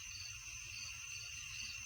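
Crickets trill in the early-morning dark, a faint, steady high-pitched chirring that stays constant throughout, with no voices.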